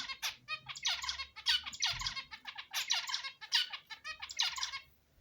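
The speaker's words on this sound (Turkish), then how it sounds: "Erkeğimiz ötmeye başladı." A male Indian bulbul (Hint bülbülü) sings in a series of bright, chattering phrases and squawky calls, repeated in quick bursts, close and clear with no talk.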